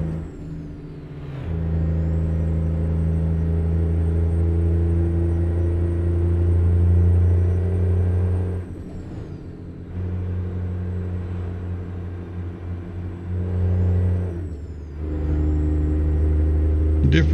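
Turbocharged 389 Glider truck engine in American Truck Simulator drones loud and steady with a deep, layered rumble, dropping away briefly twice, like gear shifts, before pulling again.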